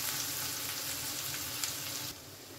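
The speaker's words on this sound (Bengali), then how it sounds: "গ্যাসের ফ্লেমটাকে মিডিয়ামে রেখে মশলাটা আমি ভালো করে কষিয়ে নেব।" Spice masala of onion, ginger and garlic frying in a pan over a medium gas flame for aloo bhuna, a continuous dense sizzle that cuts down sharply near the end.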